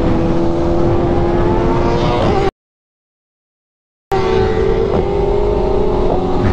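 A BMW S1000RR sport bike engine roars loud and close with a steady high-revving tone, cutting out abruptly into a silent gap of about a second and a half before the same strained revving resumes.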